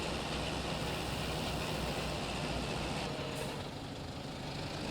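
A tractor pulls a field roller uphill with a continuous, even engine rumble and a broad mechanical roar, heard alone without talk.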